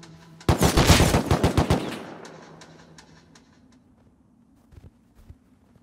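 Rapid burst of automatic gunfire in the survival game Rust, loud and close for about a second and a half, then decaying into a reverberant tail with a couple of faint distant shots afterward.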